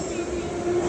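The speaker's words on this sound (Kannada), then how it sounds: "60 ವರ್ಷದ ಹಿಂದಿನ ಹಳೆ ಮೆಟ್ರೋ ಬಂತು." A sixty-year-old metro train pulls into a crowded station in Azerbaijan, a brief loud rumble with a sustained wheel-squeal tone.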